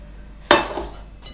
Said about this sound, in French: Je racle bien pour ne rien laisser dans la casserole